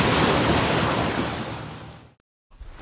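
Sea waves crash loudly and continuously as a sound effect in an audiobook reading, with broad roaring surf that fades, then cuts to a brief silence before a softer splash returns.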